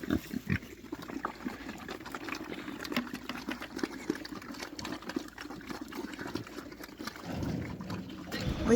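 Pigs grunting and oinking on a farm near newly improved fencing, a steady low rumble of snorts and grunts with scattered louder squeals, faint water or motor noise underneath and no talk.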